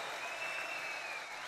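Applause from an audience at a Telangana state government event with a minister present, a steady dense wash of clapping with no speech, held at even loudness.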